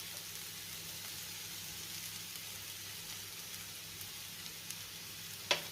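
Fenugreek and green chili thecha is stirred and mixed in a pan, a faint, steady sizzle with soft scraping and a brief sharp clink near the end.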